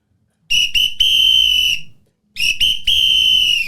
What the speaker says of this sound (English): Who doesn't know how to blow his whistle properly?